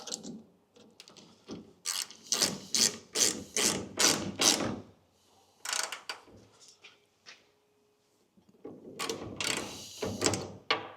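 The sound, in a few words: ratchet tightening a 1/2 inch nut on Willys MB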